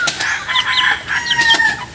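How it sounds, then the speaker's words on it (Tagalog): Padovana and silky chickens cluck and call nearby, with repeated short squawks and a crowing-like cry standing out clearly. "Ito po yung ating silky chicken."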